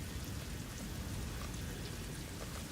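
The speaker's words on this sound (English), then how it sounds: "Ooh, and we have heavy rain." Heavy rain in the factory-building game Satisfactory, a steady dense hiss of downpour with no breaks, evenly loud throughout and heard alone without voices.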